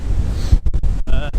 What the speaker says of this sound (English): this is again the full force of the wind now.